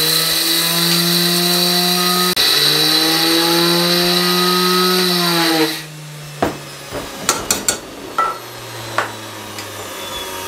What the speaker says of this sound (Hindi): इस तरह का एक जार ले लेंगे मसाले ग्राइंड करने वाला, उसके अंदर ये सब कुछ शामिल कर देंगे। शामिल करके और इसको फाइन ग्राइंड कर लेंगे।